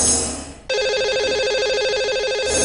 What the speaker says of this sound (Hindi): ये लगाते हैं उन्हें फोन,